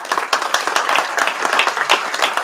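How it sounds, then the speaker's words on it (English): An audience at an evening talk on Civil War monuments claps for the arriving speaker, a dense, steady patter of many hands close by, with no voices over it. "Big hand of applause."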